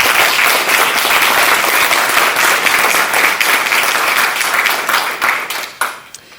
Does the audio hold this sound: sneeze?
no